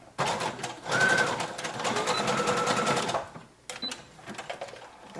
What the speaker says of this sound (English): And then I'm just sewing it on.